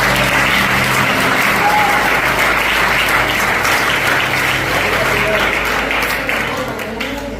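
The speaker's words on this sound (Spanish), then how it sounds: "Den un aplauso al Señor." A church congregation applauds during a Spanish-language sermon, broad sustained clapping from many people that holds steady and eases slightly near the end.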